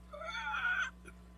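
A pet cat indoors near a computer gives one drawn-out, rising-then-falling meow, fairly close, followed by a faint short chirp over a steady low electrical hum.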